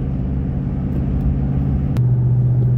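A Ram pickup truck cruising on the highway at around 60 mph while towing a Hellcat, giving a steady, close engine and road rumble that holds constant throughout.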